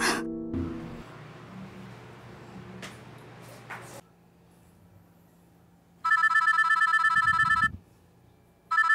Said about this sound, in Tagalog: Ate, yung cellphone mo, nagre-ring.